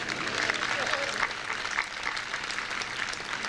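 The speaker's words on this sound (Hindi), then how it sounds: "बहुत तालियां आपने बजाई हैं" A crowd at a Hindi comedy poetry gathering claps in a steady, dense burst that continues for a few seconds. Some voices mix faintly into the applause.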